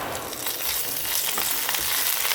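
Red chillies and curry leaves frying in hot oil for a chicken lukhmi snack filling, a steady dense crackling sizzle, close and fairly loud, with no voices.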